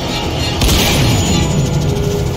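A sniper's gunshot in The Walking Dead: Michonne video game, a single sharp boom partway through followed by a rumbling tail over steady background noise.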